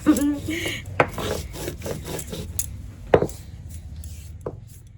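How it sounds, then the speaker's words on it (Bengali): Cooled roasted cumin seeds being ground by hand in a home kitchen, heard as dry rubbing and scraping with a few sharp knocks, fairly close, with a voice talking in the background. "এই জিরেটাকে গুঁড়িয়ে দেবো এরকম ঠান্ডা করে নিয়েছি এখন গুঁড়িয়ে নেবো"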